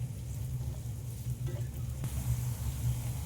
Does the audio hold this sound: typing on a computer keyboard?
no